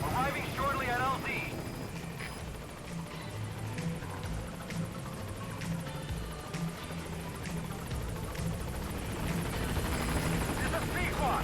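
The Pequod helicopter from Metal Gear Solid V: The Phantom Pain comes in to a landing zone, a steady rotor and engine drone that holds throughout, with game radio voices talking over it.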